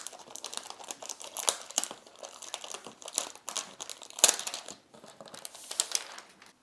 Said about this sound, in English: The laptop itself does come with a protective plastic sleeve.